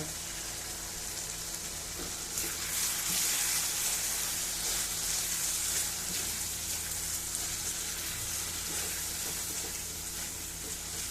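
Dried fish and potato curry sizzles steadily in hot oil while being stir-fried with a little water, a continuous close hiss with occasional scrapes of stirring throughout.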